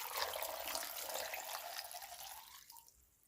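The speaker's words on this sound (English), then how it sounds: "I'm gonna put in the water." Water is poured into a container while making Jamaican plantain porridge, a bright splashing, trickling flow heard close up that tapers off and stops near the end, with no talking.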